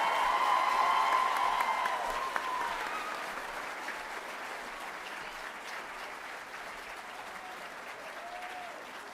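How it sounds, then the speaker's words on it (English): An audience at an 8th grade middle school promotion night applauds the promotion candidates. The clapping is dense at first, then tapers to a thinner, fading patter over several seconds, with a faint murmur underneath. "Please give a round of applause to all of our promotion candidates."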